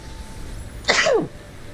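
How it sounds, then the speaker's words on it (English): A single sharp sneeze, close and fairly loud, bursting out over a quiet background hum, then fading quickly. "That was a sneeze."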